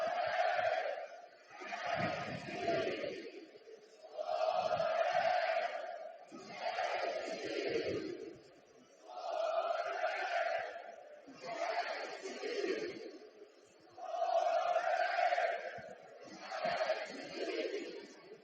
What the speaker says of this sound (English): A decent crowd out here at Children's Mercy Park tonight, despite the weather conditions